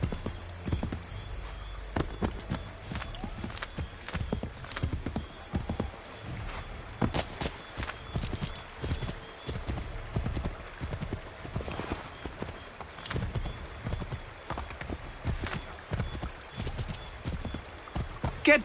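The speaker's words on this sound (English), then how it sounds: "Get back on the horse, Connor." Steady clip-clop of horse hooves at a walking pace in a video game, close and fairly loud, with faint background ambience and a brief snort or whinny.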